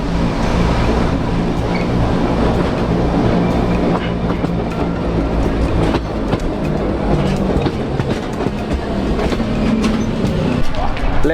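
Cog railway train with its sprocket engaging a center rack rail, a loud continuous rumble with rapid clattering and knocking throughout, heard up close; voices talk faintly under the noise.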